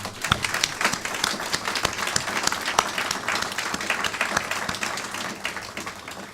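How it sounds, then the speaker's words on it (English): Audience applause at a foundation's annual meeting honoring departing board members: dense, steady clapping from a crowd filling the room, sustained at even loudness with sharp individual claps standing out. "I wonder if we could applaud them right now"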